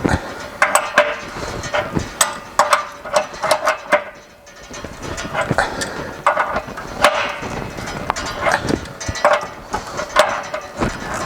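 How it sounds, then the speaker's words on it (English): An adjustable wrench works a fitting on a gas water heater in a garage, giving a string of irregular close metallic clanks and taps with brief pauses between turns. "a couple of turns with the adjustable wrench"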